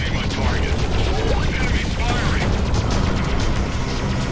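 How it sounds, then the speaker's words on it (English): Enemy gunfire during a space combat mission in the video game Freelancer, a loud, unbroken wash of rapid firing and mechanical noise with voices mixed underneath. "Enemy firing!"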